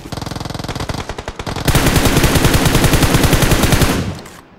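Rapid automatic gunfire in the battle-royale game PUBG, a steady rattling burst that grows louder and denser after about a second and a half, then fades near the end; no voices.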